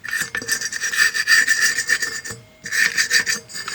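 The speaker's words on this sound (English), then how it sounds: "Gonna remove not only the dirt, but the raised parts of the rust" A scraper is dragged repeatedly over rusty metal to strip dirt and raised rust, harsh close rasping strokes in quick rhythm with a short pause midway.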